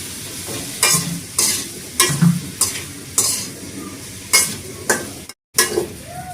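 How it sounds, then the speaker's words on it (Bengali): Potato and eggplant fry in a pan with turmeric and salt, giving a steady oily sizzle broken by regular scraping stir strokes roughly every half second, close and moderately loud, with a brief silent gap near the end. "এবারে ভালো করে ভেজে নিচ্ছি।"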